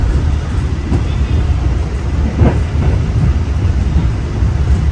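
A Bima train, an Indonesian passenger train, rolls along the rails with a loud, steady low rumble and faint rhythmic clatter, heard from inside or close by.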